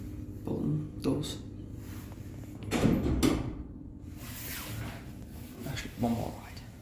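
The doors of a 1980s Furse hydraulic goods lift at the Metrocentre run with several rumbling slides and thuds spread across the clip, under a low mechanical hum, with a person talking nearby.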